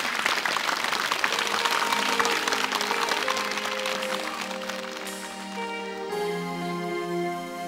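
A studio audience at a television variety show claps steadily for several seconds; the applause thins out as sustained music tones begin and take over.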